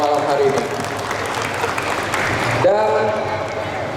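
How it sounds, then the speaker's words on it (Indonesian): An audience at an evening Borneo Extravaganza event in North Kalimantan claps in sustained applause, a dense wash of hands under a loud announcer's voice over a PA that carries on throughout. "Sekali lagi saya minta tepuk tangan yang paling meriah untuk Borneo Extravaganza pada malam hari ini."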